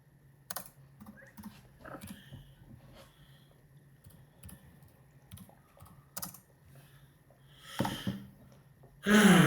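Computer keyboard typing in scattered light clicks and short bursts across the clip, fairly close and quiet, with some breathing noise and a louder thump at the end.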